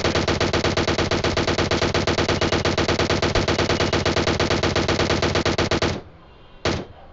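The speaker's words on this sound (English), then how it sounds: "He is firing on me." Automatic gunfire from the video game PUBG rattles in a loud, fast, unbroken burst for about six seconds. A short final burst follows after a pause.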